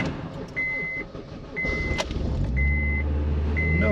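A Honda K20 Type R with a dead battery, hooked to a jump pack, cranks and fires up midway, settling into a low, steady idle after a run of evenly spaced electronic warning beeps.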